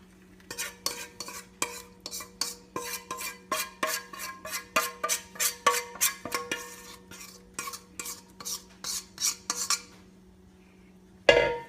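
A spoon or spatula scrapes and stirs cornmeal into melted butter in a baking pan, a rhythmic run of close, gritty strokes against the metal over a low steady hum, ending in a brief pause and a final clatter.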